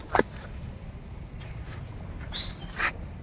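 A caught bird gives a few short, high chirps, the first sharp and close, then several fainter tweets later, over quiet background noise.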